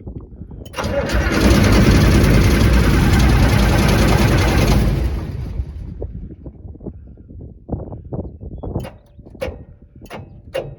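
Perkins 354T turbo diesel engine cold starting at half throttle: a loud, dense roar of cranking and firing for about four seconds, then it drops away to irregular clatter and ticking.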